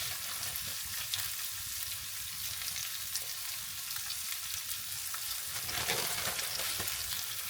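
Red onions with a sprinkle of brown sugar sizzle steadily in a frying pan as they caramelise, a continuous close hiss with soft scraping from stirring and no talking.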